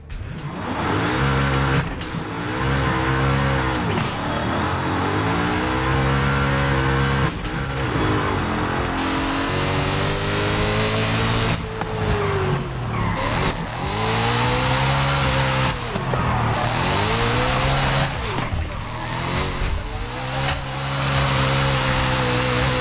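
A BMW M4 G82 with a swapped 4.0 V8 drifting in Forza Horizon 5, its engine roaring loud and unbroken as revs repeatedly climb and dip in sweeping waves, with tire noise mixed in through the slides.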